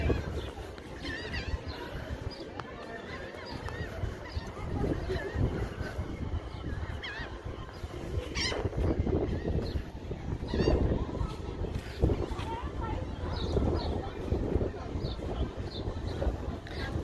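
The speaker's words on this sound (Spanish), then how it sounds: "La gaviota anda desesperada buscando comida." A seagull at a cold beach calls out while hunting for food, its harsh cries breaking through steady wind and outdoor background noise.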